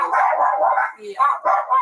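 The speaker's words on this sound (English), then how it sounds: "Don't let the dogs run out." Dogs barking at a house, a run of loud, close barks and yips in quick bursts with short gaps between them.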